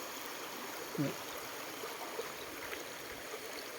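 Steady broadband rush of a waterfall at a campground in Suan Phueng, Ratchaburi, Thailand, constant and moderately distant, with a brief low thump near the start.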